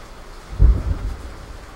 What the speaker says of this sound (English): Like, we're getting some rain today.